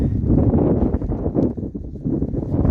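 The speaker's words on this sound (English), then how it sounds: "It was an absolute nightmare to put up with the wind that we've got going on." Strong wind buffeting the microphone on an exposed hilltop during Storm Isha, a loud, continuous rumbling roar that surges and dips in gusts, with no voices.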